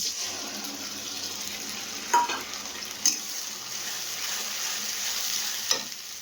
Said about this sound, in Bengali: পেঁয়াজটা লাল করে ভেজে নিয়েছি, এবার দিয়ে দেবো বাটা মশলাটা।